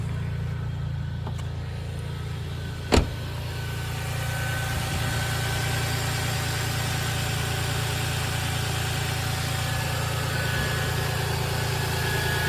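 A 2002 Toyota Tacoma TRD Limited 4WD pickup engine idles with a steady low rumble and even drone, after a single sharp click near the start.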